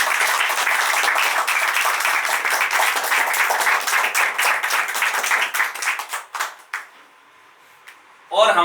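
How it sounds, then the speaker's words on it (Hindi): Dense crowd applause for a top-ranked exam candidate at a coaching institute event rolls on for several seconds, then fades out into near silence before a brief noise at the end. "इनके लिए तालियां"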